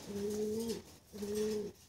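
A pigeon coos twice in a row, each a smooth, low, sustained call lasting under a second, heard close and clear against a quiet background.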